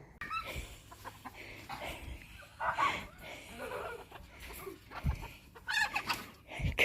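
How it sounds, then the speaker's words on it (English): Agitated chickens squawk and cluck in uneven bursts near a backyard aquaponics setup, moderately close, with scratching and rustling between the calls. "Good grief, the chickens are going nuts."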